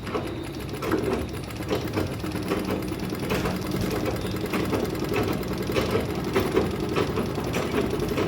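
A sewing machine stitches a cloth purse, a continuous, close, rapid mechanical chatter that keeps going without a break.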